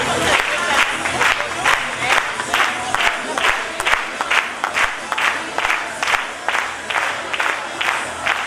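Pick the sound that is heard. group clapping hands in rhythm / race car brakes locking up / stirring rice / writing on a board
group clapping hands in rhythm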